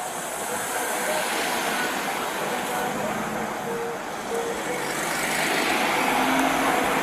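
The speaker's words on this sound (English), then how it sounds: "That car's pulling off." In a parking lot a car pulls away, its engine and tire rumble forming a steady broadband drone that grows slightly louder toward the end, with background traffic noise.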